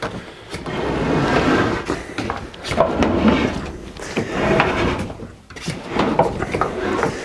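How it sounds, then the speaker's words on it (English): A Hotpoint dishwasher door is shut and the machine is turned around, producing a series of close thumps, scrapes and knocks at irregular intervals. "now close the door, turn the machine round"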